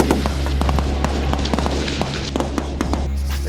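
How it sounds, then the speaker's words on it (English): Missile fire from a Russian Navy bombardment in a war video game: a dense run of booms and crackling blasts over a steady low rumble, with no talk. "The Russian Navy is bombarding us with missile fire."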